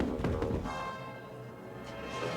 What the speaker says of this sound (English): We're going to try to ring the bell, and we rang the bell